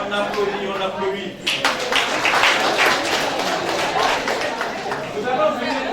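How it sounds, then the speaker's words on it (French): An audience at a formal academic opening ceremony for TS/ORL students in Niger breaks into sustained, dense applause about a second and a half in, after a brief quieter stretch with voices, and it continues steadily and fairly close to the end. "On applaudit, on applaudit."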